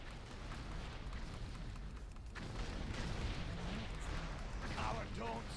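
Ship cannons firing during a naval Horde assault in World of Warcraft, heard as steady, dense rumbling barrage noise with a louder swell partway through and voices talking over it.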